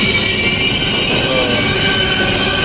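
A train stands at a railway station platform, giving a steady, loud wash of rail noise with a continuous hum and faint high squeal, no pauses across the short stretch.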